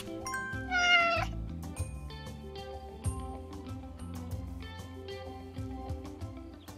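Cat meowing in the Animal Shelter simulator video game, a loud drawn-out meow near the start, then quieter cat sounds over a bed of game music, with no talking.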